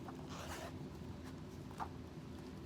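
A zipper runs along a small leather Dooney bag, giving quiet, close rasping pulls with a brief sharper tug, set against a soft steady room hiss.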